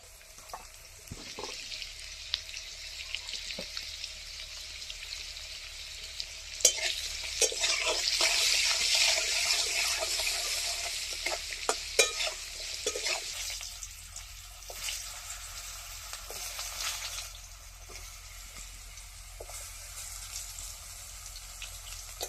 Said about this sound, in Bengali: প্রথমে আমরা ভাজাগুলো করে নেব।